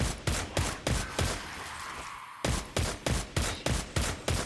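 Rapid rhythmic gunfire from Diablo Immortal, a steady string of sharp, loud shots at even intervals, pausing briefly before resuming in the same quick cadence.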